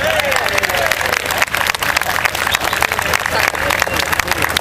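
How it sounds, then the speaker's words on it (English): An audience at a London street performance applauds a volunteer with sustained, dense clapping, close and loud, while crowd voices murmur underneath. "Everybody, can you clap it to him?"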